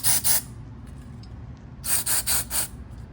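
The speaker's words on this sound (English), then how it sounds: "We're gonna spray these connectors on the inside." Contact cleaner is sprayed onto the connectors inside a Whirlpool Duet washing machine with a door lock fault: one short hiss, a pause, then three quick bursts, close and fairly loud, with no talk.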